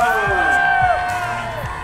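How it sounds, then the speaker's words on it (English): Crowd at a youth climbing world championship in Noumea cheering and whooping for a Canadian climber, loud shouts and yells rising over each other, close by, with voices calling out. "We have to applaud Canada."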